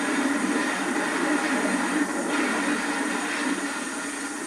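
A special steam-era train hauled by a decorated locomotive rolls past on the line to Bloemhof in the western Transvaal, a steady close rumble of wheels and carriages that eases slightly toward the end.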